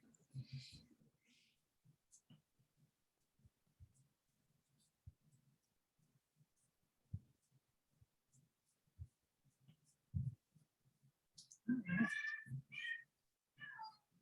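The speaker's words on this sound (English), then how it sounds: "You hear that? That was my cat Pancake." A cat meows a few times near the end, short high cries after a stretch of quiet clicks and soft tapping, with a brief voice at the start.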